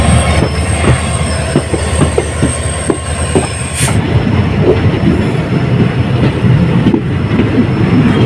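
A train rolls into Alipurduar railway junction, with loud, close, continuous rumbling wheels, rhythmic clicking over rail joints and a squealing tone, with no talking.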